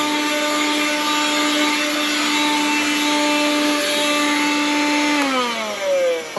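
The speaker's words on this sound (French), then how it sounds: "Voilà le petit aspirateur donc d'origine qui était livré avec le véhicule." Small 12-volt vacuum cleaner that came original with a 1994 Chevy G20 Mark III van runs close and steady with a loud whine, then winds down near the end as it is switched off.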